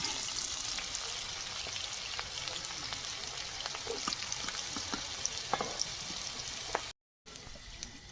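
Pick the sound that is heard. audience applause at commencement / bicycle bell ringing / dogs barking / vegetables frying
vegetables frying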